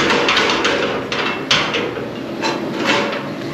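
Wooden box lid with a handle, propped by a small chunk, slamming shut with sharp knocks and rattles, loud and close, a few hard hits spread over a few seconds.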